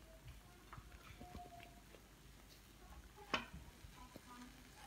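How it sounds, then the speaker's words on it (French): Omelette pizza sizzles faintly in a frying pan, a low steady crackle with a few soft clinks from utensils nearby. "on entend le bruit qui fait bouillir la pizza"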